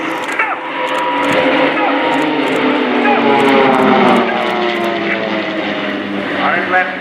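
Swiss Air Force PC-7 turboprop trainers fly a formation display at RIAT 2015, their propeller engines a loud, sustained drone that swells and fades as they pass, with an announcer talking over the roar.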